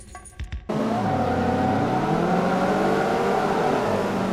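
Race cars in a BTCC touring-car video game at the Camino circuit launch from the start, their engines rising into a loud, steady, continuous roar that fills the clip after a brief opening of scattered clicks.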